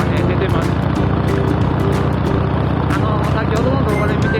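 A car idles through a North American aftermarket muffler exhaust, a loud, steady deep rumble that holds without a break for the whole stretch.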